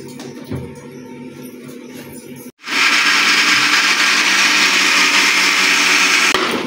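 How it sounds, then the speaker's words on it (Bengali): Mixer grinder jar holding ginger, garlic and cumin starts after low kitchen background noise, then a loud, steady high-pitched whir as the blades grind the paste continuously. "আদা রসুন আর জিরেটাকে মিক্সির বাটিতে দিয়ে রেখে দিয়েছি"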